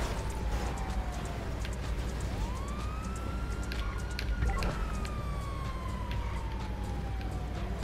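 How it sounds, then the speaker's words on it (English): A police car siren in a GTA cops-mode game wails in slow rising and falling sweeps over a constant low engine drone, with scattered clicks and game sounds. "Siren got fixed when my car blew up."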